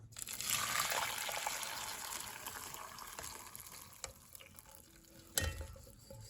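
Pine needle tea pours into a pot with a rushing, sizzling splash that gradually tapers off, followed by a couple of light clanks near the end.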